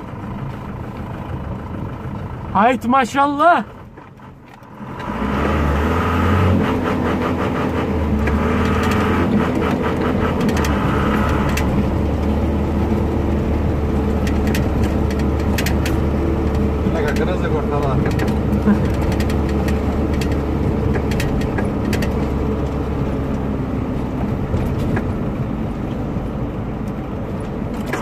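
A 1976 model car's engine idles close by in a steady, deep rumble after a short burst of noise at the start, with someone speaking briefly over it.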